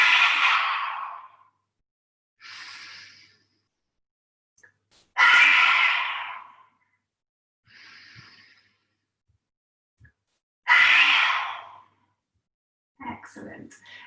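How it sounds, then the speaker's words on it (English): Yoga lion's breath done three times, each a loud, forceful breathy exhale with the tongue out, separated by quieter inhales and near silence. "if you'd like to do lion's breath, then hands on the knees, really stretch the chest forward and poke your tongue out as far as it will go"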